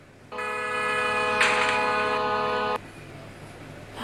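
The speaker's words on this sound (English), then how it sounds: "Bro is honking at me and I honked at him." One long, steady car horn blast in Roblox Brookhaven, a loud, close electronic honk held for about two and a half seconds, then cut off, with no talk.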